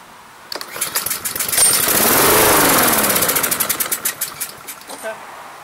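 A Troy-Bilt TB240 lawn mower with a Honda GCV160 engine, running on starting fluid sprayed into the carburetor, sputters and catches into a brief rough run that rises and fades out within a few seconds.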